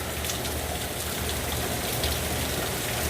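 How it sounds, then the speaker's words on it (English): Heavy rain from Hurricane Dorian in Orlando pours steadily, a dense unbroken hiss of drops striking surfaces nearby, with no voices. "there is a lot of rain"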